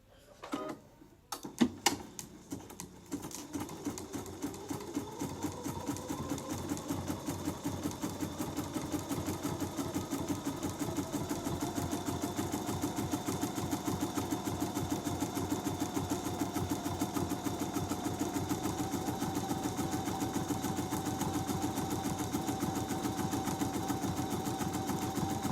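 Sewing machine stitching a tight zigzag around a quilted turkey trivet, starting with a few stuttering stitches, then running in a steady fast whirring rhythm, close and fairly quiet.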